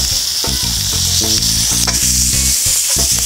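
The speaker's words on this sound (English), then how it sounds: "These onions are caramelizing a bit." Onions sizzle loudly in chicken fat and oil in a pan over a campfire, a dense continuous hiss broken by irregular thumps and scrapes of stirring, close and with no talk.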